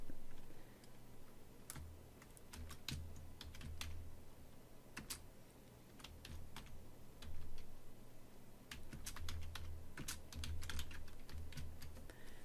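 Quiet tapping on a computer keyboard while entering text, irregular bursts of light key clicks with short pauses, heard close and alone without voices.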